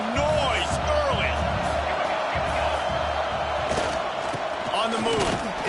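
Stadium crowd roar in an NCAA football video game with Oklahoma playing, a dense, continuous wall of cheering and whoops with scattered thuds, loud and sustained, with faint commentary voices underneath.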